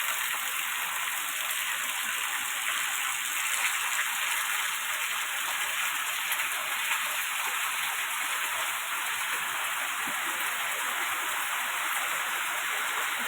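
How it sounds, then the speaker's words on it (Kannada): Heavy monsoon rain in coastal Karnataka, pouring steadily as a dense, even hiss that lasts throughout, with no voices. "ಜೋರು ಮಳೆ ಬರ್ತಾ ಉಂಟು, ಫುಲ್ ಕತ್ತಲೆ ಆಗಿದೆ."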